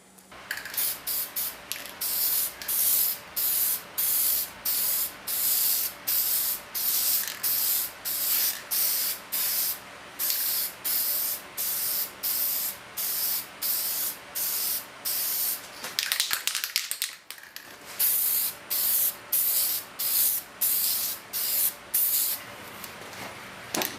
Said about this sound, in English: now we're just going to provide a clear coat